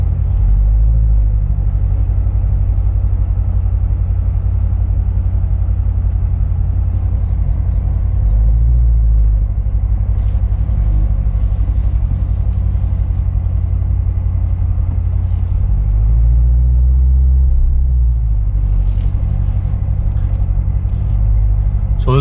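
A 2019 Chevrolet Corvette C7 Z06 pulling out of a driveway, its engine giving a steady deep rumble with a couple of louder swells as it moves off.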